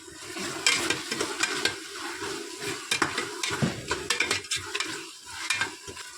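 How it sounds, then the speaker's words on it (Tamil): Tomatoes sautéing in a pan, a close sizzle with frequent scraping and clinking of a spoon stirring against the pan, busy and uneven, no talking. "இந்த மாதிரி நல்லா தக்காளி வதங்கணும்."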